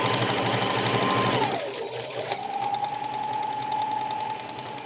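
An old sewing machine stitching fabric for dog bandanas, running in a steady whirring hum close by, briefly slowing and pausing near the middle before resuming its even drone.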